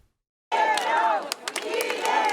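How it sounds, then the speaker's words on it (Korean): Supporters crowded into Cheongju's Yukgeori market break into loud cheering and shouting after silence, a dense burst of many voices close by that continues with rising whoops. "더불어민주당 이재명 대표가 청주 육거리 시장의 모습을 나타내자 지지자들이 환호합니다"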